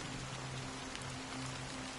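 Steady rain falls on a surface as an even, continuous wash of patter, close and fairly loud, with no voices.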